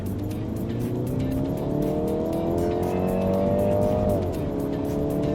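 Mini Cooper S Countryman top-trim 2018 accelerating on a test drive, a loud steady engine roar rising in pitch, with a brief dip as the gear shifts near the end and road rumble underneath.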